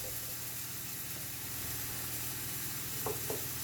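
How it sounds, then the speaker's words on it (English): Onion going into a pan for tagine chicken sizzles in a steady, close frying hiss over a low hum, followed near the end by two brief clinks. "All this beautiful onion, look, going in there."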